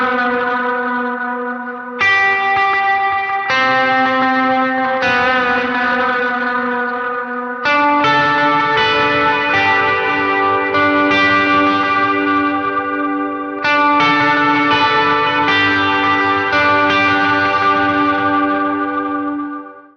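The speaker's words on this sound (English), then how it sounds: "Verse 2, we've got a big long lead riff." Electric guitar plays a long harmony lead riff from Be Enthroned through heavy effects, with distortion, chorus and echo. Sustained ringing notes come in loud phrases that restart a few times and trail off at the end, with no talking.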